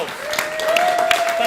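Audience clapping at a small talk event, a brief burst of moderately loud applause with a sustained tone and a voice running underneath.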